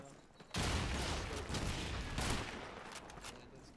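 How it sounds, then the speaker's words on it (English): Rapid bursts of gunfire from Call of Duty 2 multiplayer crackle loudly and continuously, a fusillade of shots with a sharp, game-like quality and faint voices underneath. "I hear gunshots."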